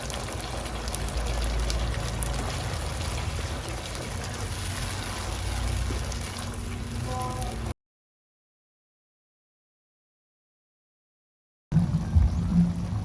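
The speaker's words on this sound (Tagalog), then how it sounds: "At lalagyan na natin ang ating tomato sauce." Tomato sauce poured into a bubbling mushroom pasta sauce, a steady close-up liquid pour and sizzle over about eight seconds, then a gap of silence before the simmering resumes briefly.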